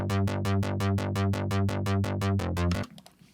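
A synth playing a steady run of repeated plucky notes, each with a filter sweep closing down from bright to dull as the cutoff is modulated, about five notes per second for close to three seconds before it cuts off abruptly.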